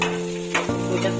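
Chopped onion and green chilies sizzle as they are stirred into frying semolina for upma, a steady close crackle with a spoon scraping the pan, no voices.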